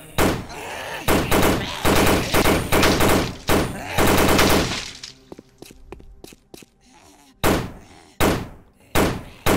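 Bursts of automatic gunfire from a Left 4 Dead-style zombie shooter game, loud repeated rattling volleys separated by a quieter stretch of scattered clicks and thuds, then more sharp bursts near the end.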